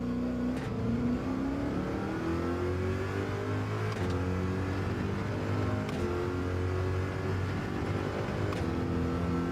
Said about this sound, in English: I like a rough sounding car.